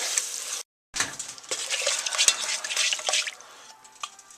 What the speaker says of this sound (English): This is after 5 minutes of constant whisking